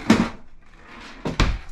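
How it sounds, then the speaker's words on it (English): A kitchen drawer in a 2023 Coachmen Concord 321DS Class C RV being handled, with a soft knock, a low sliding rumble and then two sharper close-by clunks. "What was in that drawer, Sherry?"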